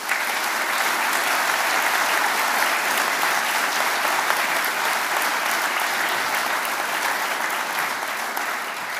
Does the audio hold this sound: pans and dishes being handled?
no